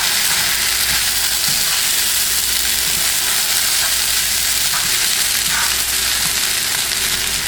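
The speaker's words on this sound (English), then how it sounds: "As you can see, the shrimp is continuing to cook. And just keep breaking up that rice." Shrimp fried rice with egg sizzles loudly in a pan, a dense continuous frying hiss with scattered stirring and scraping sounds up close.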